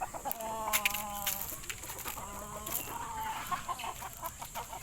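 Chickens cluck and cackle nearby, a few drawn-out calls followed by short scattered clucks over quiet outdoor background.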